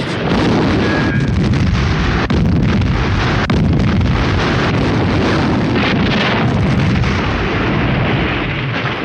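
An ammunition dump explodes in a World War II battle scene, a loud, continuous roaring blast with rumbling, crackling debris and sharp pops, dense and overwhelming throughout.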